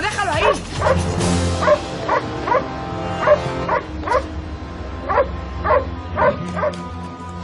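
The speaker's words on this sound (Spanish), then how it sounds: "Corre, Andrés, el perro" A dog barks over and over in sharp, yelping bursts at a quick, irregular pace, loud and close, with panicked voices shouting underneath during a chase.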